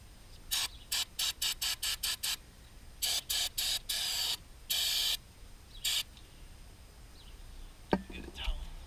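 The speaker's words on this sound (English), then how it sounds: "start off with some brake cleaner first. I'm gonna spray this part right here" Brake cleaner aerosol sprayed onto the clutch fork pivot of a 2013 Subaru during a clutch job: a series of short hissing bursts, a rapid run of quick squirts followed by several longer sprays, close and fairly loud, then a small clunk.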